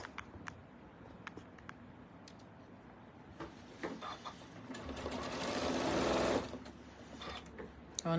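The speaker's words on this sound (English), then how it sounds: "It's very odd sewing on the left-hand side like this" A sewing machine stitches a roll-up cork organizer, running in short bursts and building to a fast, loud whir before stopping, with brief talk in between.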